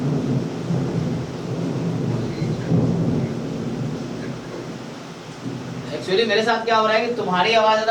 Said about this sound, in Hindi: बाहर बिजली की वजह से बारिश हो रही है ना